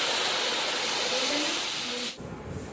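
Ginger garlic paste and onion juice dropped into hot oil for chicken biryani give a loud, steady hissing sizzle that cuts off abruptly near the end and leaves a softer crackle.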